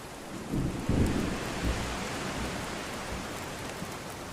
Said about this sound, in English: the moist tropical forest is no stranger to an early morning shower.